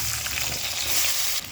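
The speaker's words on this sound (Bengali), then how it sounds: "তিনটে মিডিয়াম সাইজের আলু আমি কেটে ধুয়ে নিয়েছি, এবার এই তেলের মধ্যে ভেজে নেব" Three medium-sized potatoes, cut and washed, frying in hot oil in a pan, a steady close sizzle throughout with no talking.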